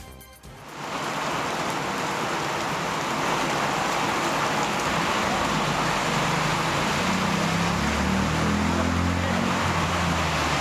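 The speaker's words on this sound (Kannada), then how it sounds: "ಬೊಮ್ಮನಹಳ್ಳಿ, ಎಲೆಕ್ಟ್ರಾನಿಕ್ ಸಿಟಿ ಹಾಗೆ ಚಂದಾಪುರ, ಜಿಗಣಿ ಹಾಗೆ ಬನ್ನೇರುಘಟ್ಟದ ಸುತ್ತಮುತ್ತ ಬಿರುಗಾಳಿ ಸಹಿತ ಭಾರೀ ಮಳೆಯಾಗಿದೆ" Heavy rain with strong wind in Bengaluru, a steady, loud downpour that washes over everything and builds slightly, with a low rumble from the wind and passing traffic beneath it.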